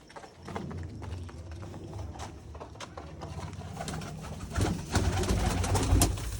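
Pigeons coo steadily in a loft, a throaty rolling murmur that grows louder toward the end, with scattered flutters and clicks mixed in.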